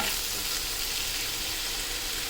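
Tomato and salt being stirred into a pan of village-style dry fish curry, a steady dense sizzle and frying hiss throughout, close and continuous with no talking.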